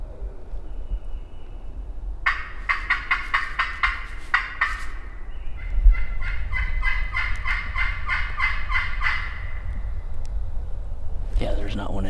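Wild turkeys gobble on public land during a morning hunt, bursts of rapid rattling gobbles at moderate distance, two distinct rolls a few seconds apart, with people talking quietly nearby at the end.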